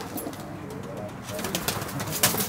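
Racing pigeons at a loft outdoors give faint coos and brief wing flutters, with a quick flapping burst near the end, against steady background noise.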